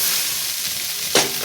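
Crab frying in hot oil for a spicy Bengali crab curry, a steady broadband sizzle throughout with one brief louder scrape or stir near the end, close and fairly loud, no talking.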